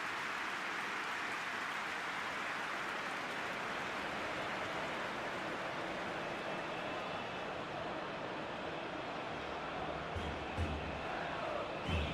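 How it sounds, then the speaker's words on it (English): A PES 21 stadium crowd at a Lanús versus Boca Juniors match applauds in a broad, steady wash of clapping, like heavy rain, sustained at an even level throughout. "at least the crowd are appreciative of his efforts."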